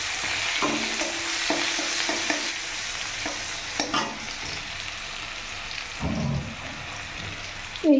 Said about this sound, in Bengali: তারপরে পেঁয়াজ কুচি দিয়ে দিলাম।